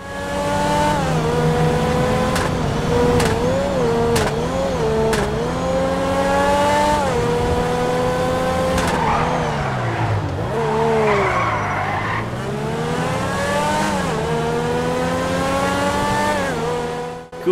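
A high-revving Grotti X80 Prototype sports car engine in GTA whines steadily, pitch climbing and dropping through gear shifts, with tires skidding and squealing briefly midway.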